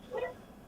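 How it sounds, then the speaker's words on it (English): A single short dog bark rings out once, brief and fairly faint, with quiet background and no talking. "that was a dog bark"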